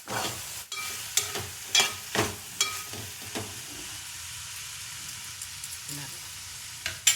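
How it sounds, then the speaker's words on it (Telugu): Curry with ginger garlic paste sizzling and frying in a pan as it is stirred, a steady close hiss broken by repeated sharp scrapes and clatters of the spoon against the pan. "కర్రీ కలుపుదాం రండి కలుపుతూ ఉండాలండి"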